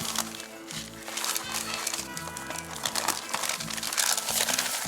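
Wax paper crinkles and crackles steadily while being handled during pulled pork prep, a busy near rustling texture running throughout with faint background noise.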